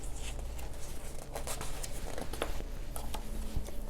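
Colored pencils scratch across paper in a run of quick, uneven strokes, close and fairly soft over a steady low hum.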